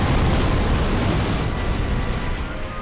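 Dense, continuous roar of Rocket Barrage explosions in a video game, a loud unbroken wall of booms and blasts filling the whole stretch with no pauses.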